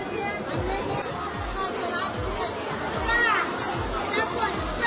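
Dense crowd chatter fills the Panvel fish market, a steady hubbub of many overlapping voices with children's calls and people talking nearby, continuous throughout.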